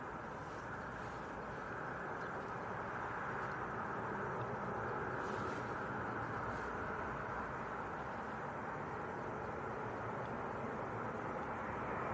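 A Jet2 Boeing 737-800 arriving at Leeds Bradford Airport, a steady distant broadband roar of jet engines that holds evenly throughout, with no voices over it.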